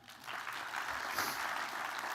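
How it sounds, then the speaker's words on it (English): Audience applause fills a hall at an academic awards ceremony, a steady wash of many hands clapping at moderate distance, fairly soft and continuous for about two seconds with no clear voices over it. "Round of applause for that."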